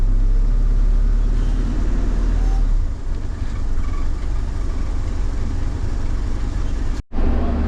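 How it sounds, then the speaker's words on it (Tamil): Steady engine rumble and road noise from inside a moving bus in Thailand, a continuous low drone with shifting hiss and a sudden brief cut near the end. "பஸ் எடுத்து நம்ம போகிறோம்"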